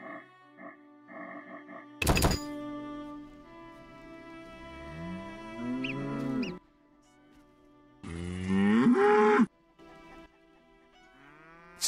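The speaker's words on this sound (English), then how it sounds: "our champion cow." A cow in The Witcher game lets out long, loud moos between game sound effects and a sharp thunk, with a brief low voice near the start.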